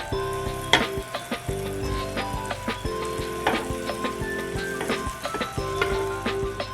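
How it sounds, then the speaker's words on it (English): French toast slices frying in butter in a pan, a continuous sizzle with bursts of crackle and popping throughout, close and steady, with faint scraping and no voices. "And I'm just going to add a little bit of butter back into my pan."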